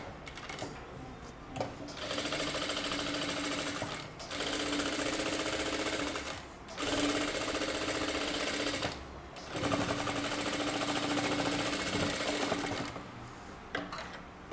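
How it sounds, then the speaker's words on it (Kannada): A sewing machine stitches along the edge of a kurta in several sustained bursts of fast, even whirring, broken by short pauses, close and clear with no talking. "ಎಡ್ಜಲ್ಲಿ ಸ್ಟಿಚ್ ಮಾಡ್ಕೊಳ್ಬೇಕು"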